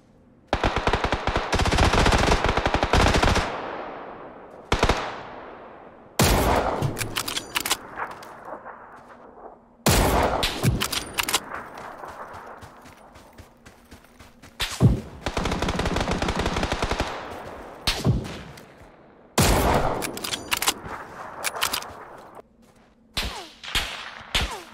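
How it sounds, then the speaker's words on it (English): Bursts of automatic gunfire from the battle royale game PUBG, several loud rapid-fire volleys separated by brief pauses, some sharp single shots mixed in. "Where are those shots coming from?"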